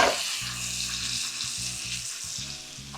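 Bacon sizzles loudly in its own rendered grease, an up-close, continuous crackling fry with a low humming tone pulsing on and off beneath it.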